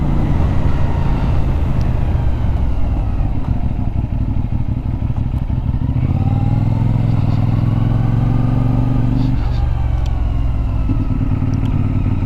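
A CFMoto 450 NK motorcycle engine drones steadily close by while riding, with wind rush and a rise in engine pitch partway through; no speech.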